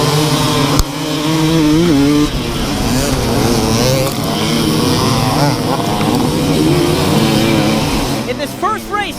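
About a hundred AA pro hard enduro dirt bikes launch from a row start at a race, with loud, close engines revving and screaming together in rising and falling waves under a voice.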